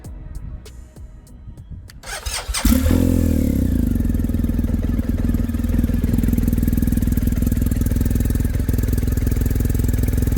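A 2023 BMW M 1000 RR motorcycle fires up after sitting unused for a while. Faint clicks are followed by a starter whir, then a loud, steady engine idle that carries on close by with no talking.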